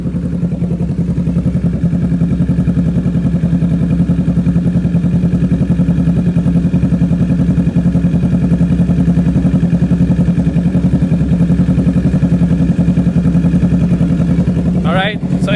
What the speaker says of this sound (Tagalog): So this is a 2-cylinder bike and this is the idle.